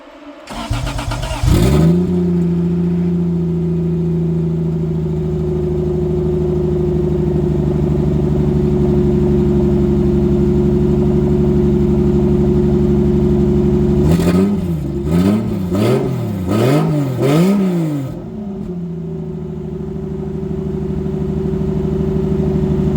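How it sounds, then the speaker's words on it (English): A turbocharged 2JZ engine in a Toyota Supra with a bad misfire cranks and catches, then settles into a loud, steady idle, broken near the end by several quick revs that rise and fall before it drops back to idle. "the Supra was missing pretty bad last night, so I'm going to start it up one more time"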